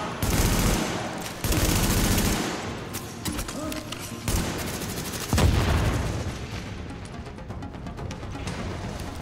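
Enemy gunfire in The Division, a third-person shooter set in a refugee camp: bursts of automatic shots and heavy booms crackle throughout, loud and dense, with game sounds layered under the firing.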